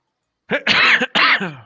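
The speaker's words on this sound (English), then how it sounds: "Cough." A person coughs or clears their throat twice in quick, rough bursts, close and fairly loud, during a casual Premier League trivia chat.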